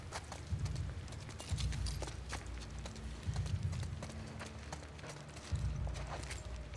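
Steady clip-clop of horse hooves walking in The Last of Us Part 2, a repeating rhythmic beat with a low rumble beneath, fairly close and moderately loud, no talking.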